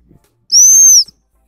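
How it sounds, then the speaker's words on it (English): A single gundog stop whistle blown once, a clean steady high tone lasting about half a second, loud and close against near silence. "blow that stop whistle, and the dog just sits"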